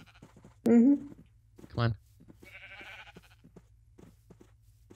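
Sheep in a Minecraft ChainWorld map bleat twice in quick succession, loud and close, followed by a softer wavering call, with brief speech in between.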